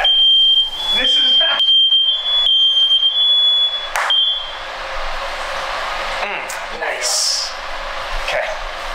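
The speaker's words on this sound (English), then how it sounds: "Did you set the fire alarm off on all of the apartments?" An apartment fire alarm blares a piercing, high steady tone for about four seconds, then cuts out as people talk over background noise.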